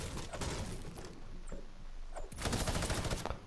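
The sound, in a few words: gunfire in the video game Fortnite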